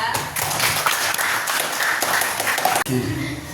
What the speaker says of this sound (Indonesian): give applause to Rizka and Ziza